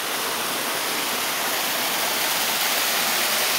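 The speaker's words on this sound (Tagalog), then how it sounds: "Ito yung falls." Pinggan Falls in Lupao, Nueva Ecija, roars as a steady, loud, broadband wash of falling water, constant and close with no voices over it.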